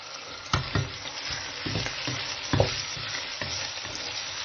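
Keema minced meat fries with ginger, garlic and spices in a pan, giving a continuous sizzle broken by repeated stirring scrapes. No voices are heard.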